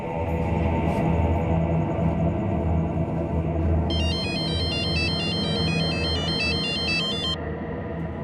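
Phone ringtone chirping in a repeating electronic warble for a few seconds over a steady, loud background hum, then cutting off.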